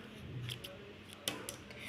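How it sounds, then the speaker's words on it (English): Scissors snip through wool yarn during a simple craft, giving a couple of quick, faint close-up cuts with a sharper snip near the middle. "take the scissors and cut the yarn"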